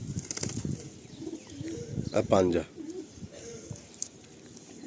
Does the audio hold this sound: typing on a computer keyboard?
no